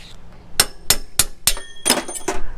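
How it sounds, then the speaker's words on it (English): Small toy hammer struck repeatedly outdoors at a campground while fixing up a bike, giving about six sharp metallic taps in an uneven rhythm, close and fairly loud, with no talking. "I got this little toy hammer."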